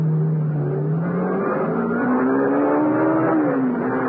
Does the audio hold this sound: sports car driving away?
yes